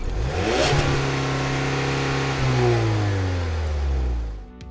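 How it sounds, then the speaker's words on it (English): A 2021 Ford Bronco Sport Badlands with dual exit exhaust revs up close and loud, its engine note climbing then falling as the rpm drops, a fairly mild, unsporty drone heard alone with no talking. "a dual exit exhaust that sounds less than sporty"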